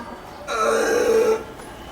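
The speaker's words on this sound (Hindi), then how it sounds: "चलेगी रोटी की डकार।" A long, loud belch after a meal of roti, performed on stage in a Hindi theatre play, one sustained rumbling burp of about a second with no talking over it.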